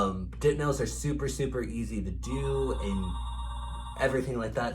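A telephone rings in a nail salon, a steady electronic trilling tone sounding for a couple of seconds between stretches of someone talking close by.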